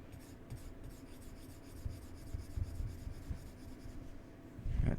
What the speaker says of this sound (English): I'm going to draw this again. This is like the sort of tight undersketch.